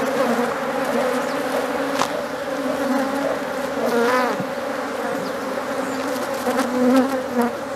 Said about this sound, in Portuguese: Um quadro muito bonito, cheio de abelhas.